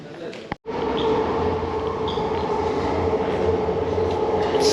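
An Elizabeth Line train rolls into Tottenham Court Road station with a steady low rumble and a faint whine, fairly smooth and close, after a brief dropout at the start.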